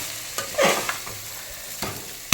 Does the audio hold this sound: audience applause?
no